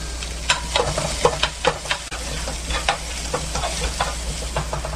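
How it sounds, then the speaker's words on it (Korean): Cucumber stir-fried quickly in hot oil in a pan over high heat, with a steady close sizzle and repeated clacking stirring strokes that fill all five seconds, no voices. "기름 달구고 오이 넣어서 재빨리 볶아주세요."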